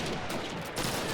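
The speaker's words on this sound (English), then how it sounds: "That was another grenade." A grenade blast in Call of Duty 2 leaves a dense, roaring wash of noise lasting about a second, loud and close with no voices.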